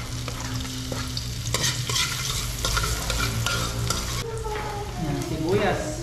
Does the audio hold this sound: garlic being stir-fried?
yes